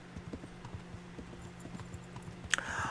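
Steady clip-clop of a war horse's hooves in a video game, a regular walking rhythm at moderate level throughout, with a brief sharp clatter near the end.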